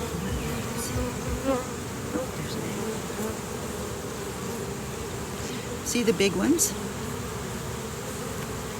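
Steady buzzing of many honey bees close by at an open hive being split, a continuous droning hum, with a person briefly speaking over it.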